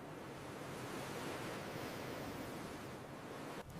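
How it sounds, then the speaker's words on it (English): Pacific Ocean surf crashing near a beach campsite in the evening, a broad steady roar of breaking waves, fairly faint, with no voices. "Pitching tent against the backdrop of crashing ocean waves."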